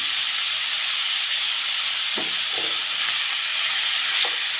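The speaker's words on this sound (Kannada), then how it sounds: "10 ನಿಮಿಷ ಫ್ರೈ ಆಗಲಿ" Spinach and moong dal upma ingredients fry with turmeric in a pan, giving a steady broadband sizzle and hiss with a few soft stirring knocks, close and continuous with no talking.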